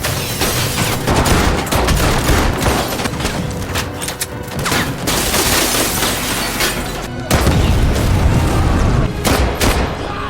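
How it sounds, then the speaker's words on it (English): Dense, loud gunfire crackles almost nonstop, with heavy booms and blasts mixed in, like a chaotic firefight with explosions. "They engage in a battle at Tia's apartment, where Steve manages to kill Tia in an explosion."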